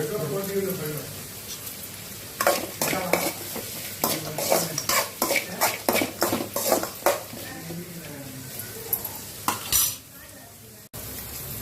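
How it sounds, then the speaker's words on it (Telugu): Onion frying in a pan with salt while atukula upma is cooked, heard as a rhythmic series of close scraping stirs and utensil clinks over a soft sizzle, with a voice speaking at times. "కొంచెం ఆనియన్ ఫ్రై అవ్వడానికి కొంచెం సాల్ట్ వేసుకుందాం."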